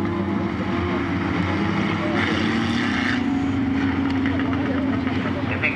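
Mini stock race cars at McKean County Raceway drone and rev as the field gets going, a steady engine roar with rising pitch under continuous talk.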